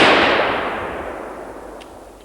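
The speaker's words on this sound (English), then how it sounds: "And then suddenly the moose come running out and fall from the shots." A single loud, sharp gunshot during a moose hunt in Sweden, followed by a long, fading echo rolling away across the forest.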